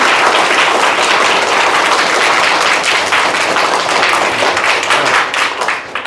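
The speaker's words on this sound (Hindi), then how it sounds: "एक जोरदार ताली होना चाहिए" Loud, sustained clapping fills a classroom as pupils applaud a young schoolgirl, a dense steady burst of hand claps lasting several seconds before tapering slightly at the end.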